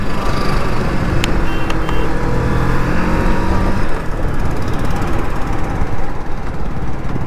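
Kawasaki Vulcan cruiser motorcycle, making 61 BHP and 65 Nm of torque, running steadily on the road during a test ride, with a loud continuous engine drone and wind rumble and no voices.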